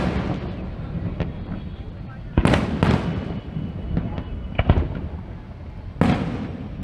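Fireworks over a Vietnamese New Year celebration for 2016, sharp explosive bangs and crackles bursting at irregular intervals, some close and loud, with people chatting nearby.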